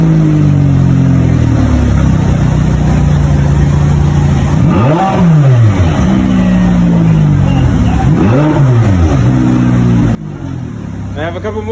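A McLaren 570S Spider's 3.8-liter twin-turbo V8 idles loudly and close up, then revs hard twice in rising and falling sweeps before the sound drops off sharply near the end; voices are heard around it.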